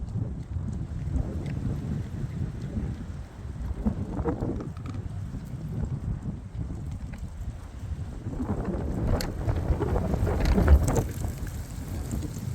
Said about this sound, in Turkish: rüzgarlı ve soğuk bir hava.